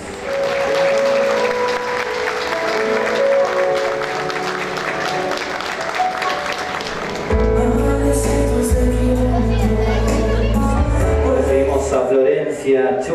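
An audience claps warmly for a woman introduced on stage at an evening show, continuous applause over music and a voice, with the music shifting to a heavier beat midway.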